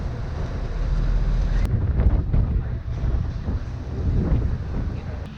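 A Hallberg-Rassy 54 yacht runs at speed near the old naval docks in Bermuda, with loud, steady wind buffeting the microphone and rushing water noise throughout.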